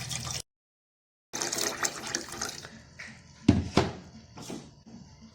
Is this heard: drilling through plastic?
no